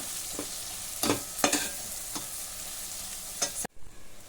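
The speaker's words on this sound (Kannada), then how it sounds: "ಚೆನ್ನಾಗಿ ತೊಂಡೆಕಾಯಿ ಜೊತೆಗೆ ಎಣ್ಣೆ ಒಳಗೆ ಮಸಾಲೆ ಫ್ರೈ ಆಗಿದೆ" Spice powder fries in oil with ivy gourd for a chitranna rice dish: a bright, close sizzle with several sharp spatula scrapes, then it cuts off abruptly near the end.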